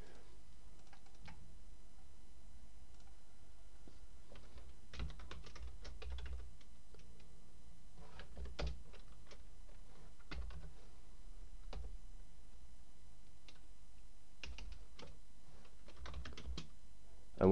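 Scattered bursts of keystrokes from code being typed on a computer keyboard, quiet and close, with short pauses between clusters of clicks and no voices.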